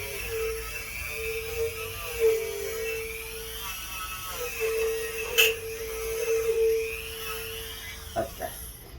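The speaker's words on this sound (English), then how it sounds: "I can't get the Dremel any closer to the machine" A Dremel rotary tool runs with a steady high whine that dips and returns as it is worked near a Baja Warrior machine, with brief knocks and small handling sounds and no clear talk.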